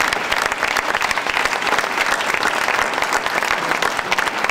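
Sustained audience applause for participants of a political debate among six Flemish parties in Grimbergen, a dense, steady wash of many hands clapping in a hall, loud and continuous without talk.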